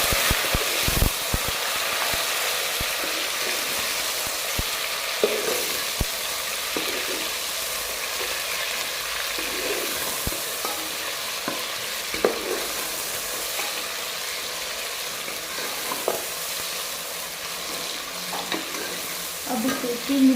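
Tomatoes cooking in a mixed vegetable gravy give a steady, continuous sizzle and bubbling hiss, with occasional soft clinks of a stirring spoon against the pan, close and alone without voices.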